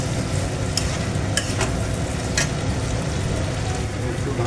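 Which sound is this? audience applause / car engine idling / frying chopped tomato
frying chopped tomato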